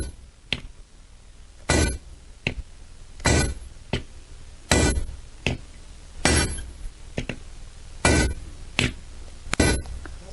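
A hammer striking a hot cut to cut through 3/8 inch rebar, sounding as sharp metallic blows repeated at a steady rhythm about every second, close and loud, with no talk.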